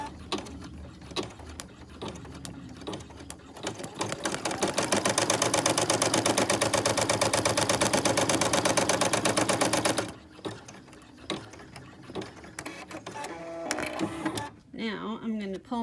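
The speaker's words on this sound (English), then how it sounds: "put my foot down, and I'm going to stitch that onto my stabilizer" An embroidery-style sewing machine stitches a design onto stabilizer with a fast, buzzing mechanical chatter for several seconds, close and loud, while a person talks before and after the run.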